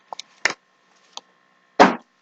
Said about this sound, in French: Le bruit que vous entendez, c'est un livre de colorage qui vient de tomber de mon canapé.